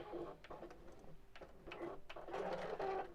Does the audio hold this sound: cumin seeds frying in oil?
no